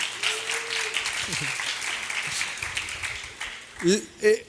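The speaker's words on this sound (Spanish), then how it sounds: "Un aplauso para la actuación de Héctor." Applause from a congregation at a Bible study for a performance, a soft steady patter of clapping under voices, with a brief vocal sound and louder bursts near the end.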